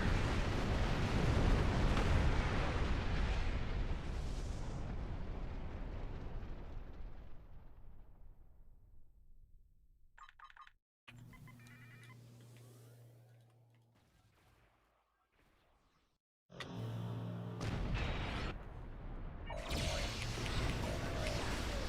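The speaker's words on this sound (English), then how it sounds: "My bomb is fired." A bomb fires in a video game with a loud, rumbling explosion that decays over several seconds, followed by quieter scattered effects and then another burst of noisy activity.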